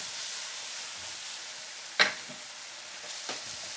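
Onions or peppers for a sandwich sizzle steadily in a pan, a continuous soft hiss with a sharp clink or scrape near the two-second mark and a fainter one after three seconds.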